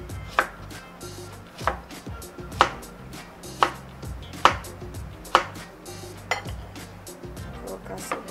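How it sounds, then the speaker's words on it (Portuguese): A knife cuts an onion on a board while yakisoba is prepared. It lands in sharp, evenly spaced chops, about eight in a row, with light clinks of kitchen utensils between the strokes. "Eu vou tentar cortar a cebola aqui no meio."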